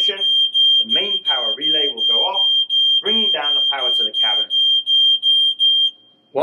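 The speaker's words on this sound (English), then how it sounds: "In the event of a fire, the smoke alarm will sound" A shrill smoke alarm in a server rack cabinet monitoring system beeps in a steady, rapid pulse, loud and close, while a person talks over it.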